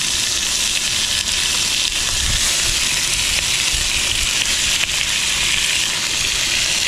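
Beef sears in a hot pan for birria tacos, giving a loud, steady, close sizzle that holds without a break for several seconds, with no voices over it.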